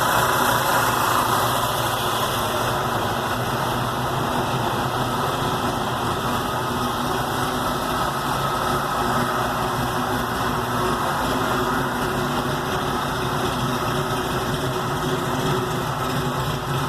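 A rough, throaty V8 engine of a 1984 Ford Mustang GT idles steadily, its loping rumble continuing evenly for the whole stretch with no speech over it.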